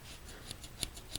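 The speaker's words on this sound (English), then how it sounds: "On this side, there's actually a very nice pair of scissors." Leatherman Surge multitool scissors snip and click in a few crisp, evenly spaced metallic ticks, close and faint over steady background hiss.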